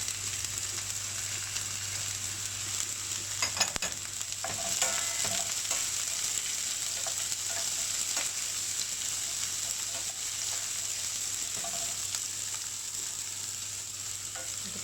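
Onions sizzle steadily in hot oil in a pan for cooking moringa leaves poriyal, a dense continuous frying hiss with a few brief stirring clinks, close and moderately loud with no talking.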